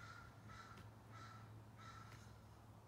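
Crows cawing loudly in a garden, several harsh calls in two or three bursts over a steady low hum.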